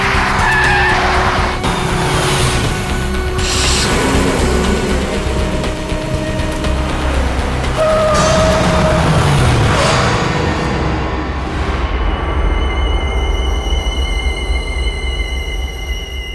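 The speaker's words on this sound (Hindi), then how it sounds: "ड्राइवर गाड़ी घुमाओ।" A car turns around sharply on a road, its tires squealing and skidding in several long screeches over a loud, continuous engine roar, with no talking.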